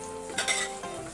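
Onion paste sizzles in a hot pan while chicken rezala is being cooked. The close, soft frying hiss has a couple of brief stirring scrapes and comes through with no one talking.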